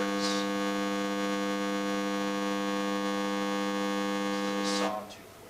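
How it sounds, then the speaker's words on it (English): A steady electronic test tone from a sawtooth wave generator holds at constant pitch with a buzzy, harmonic-rich timbre, loud and unbroken for about five seconds before cutting off abruptly. "This is a sawtooth wave."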